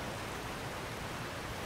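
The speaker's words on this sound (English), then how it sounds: "Sounds like a waterfall to me." A waterfall in Skyrim gives off a constant, even wash of rushing water, a smooth broadband hiss with no breaks or changes, heard on its own.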